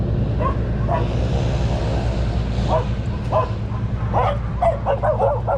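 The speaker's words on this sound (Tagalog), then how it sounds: "mga aso." Dogs bark and yip repeatedly in short bursts along Coronado Street near the Makati–Mandaluyong Bridge, moderately close over a steady street rumble, with the barks growing busier toward the end.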